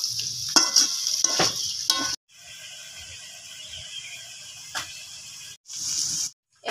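Fried cauliflower is tossed with spices and soy sauce in a hot pan for chilli cauliflower, bursts of sizzling and spatula scrapes cut by sudden pauses, close and fairly loud.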